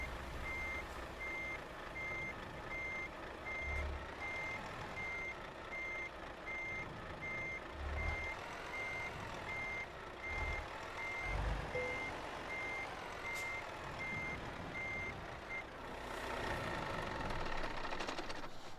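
A truck's reversing beeper in the Euro Truck Simulator game sounds steadily, beeping at an even rhythm over a continuous engine rumble for a long stretch.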